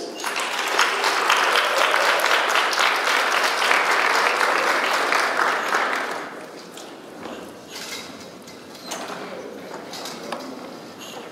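Audience applause at a funeral service awards breakfast, with dense, steady clapping for about six seconds before it thins to scattered claps and room noise.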